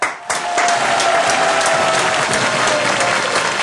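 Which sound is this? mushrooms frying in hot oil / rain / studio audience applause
studio audience applause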